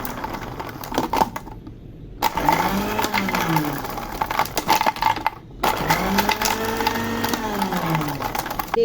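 A kitchen machine blends coffee with ice cubes, giving a rattling, whirring run with clattering ice, broken by brief pauses and restarts.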